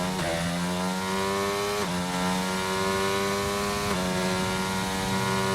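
A Formula 1 car engine at the 2001 Brazilian Grand Prix, in a video game, screams continuously at high revs, dropping sharply on gear changes three times as it slows into a braking zone.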